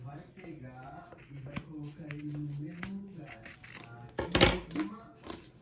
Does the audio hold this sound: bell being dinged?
no